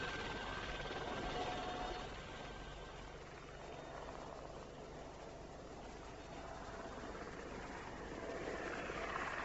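Helicopter in a 1970 manhunt film scene, a steady broadband rotor and engine drone that holds for the whole stretch, swelling slightly at the start and end, with no talk over it.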